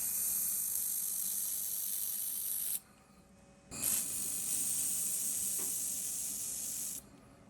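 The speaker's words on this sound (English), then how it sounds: "let me get the welder switched over to aluminum wire" MIG welding aluminum parts with aluminum wire for a DIY metal 3D printer: a steady close hiss of the arc in two long bursts, with a brief gap between them and no talk.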